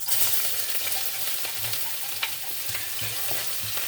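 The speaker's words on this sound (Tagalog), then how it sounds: "meron na po tayo ditong kawali na may oil. Ayan, isunod na po natin ang ating bawang at sibuyas." Garlic and onion frying in oil in a pan for pancit, a steady close sizzle with occasional scraping stir clicks throughout, no talking.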